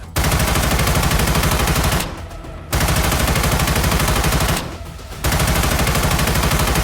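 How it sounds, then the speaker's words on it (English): Gunfire sound effect in a narrated story: dense, sustained bursts of loud automatic shots in two long volleys, each cut by a short lull, with no talking. "Gunshots exploded instantly."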